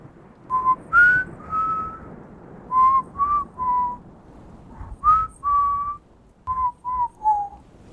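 A single person whistles a slow, wavering tune in short, mournful phrases with brief pauses between notes, close and clear against a quiet background.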